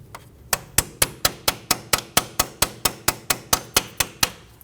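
A hammer taps the metal lock of a front brake hose bracket on a Volkswagen Passat in a steady run of about sixteen sharp, evenly spaced strikes, close and loud with no talking.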